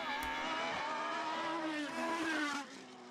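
A Gould Formula single-seater race car at a Formula BOSS Ireland round powers through corners, its high engine note sustained and loud, with slight tyre squeal and a dip in level near the end as it moves away.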